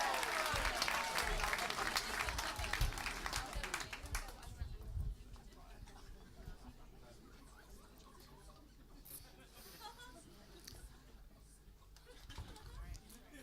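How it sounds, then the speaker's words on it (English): Audience applause and cheering at a stand-up comedy show at the Comedy Store, loud and dense for about four seconds, then dying away into quieter room noise. "let's get that applause going. Let me hear that whooping and cheering"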